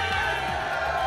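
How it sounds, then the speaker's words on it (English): A large crowd at a Tekken 7 World Tour Finals 2017 group-stage tournament roars and cheers steadily throughout, a dense, continuous wash of noise with a voice talking over it. "You guys heard the cheers in the crowd."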